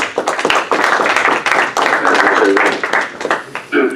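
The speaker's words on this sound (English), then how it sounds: "please a round of applause for Bill" An audience gives Bill a round of applause at an A2P messaging masterclass. Uneven clapping from a modest group comes across loud and close, with voices mixing in and some brief taps and gaps.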